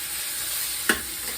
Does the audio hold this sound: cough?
no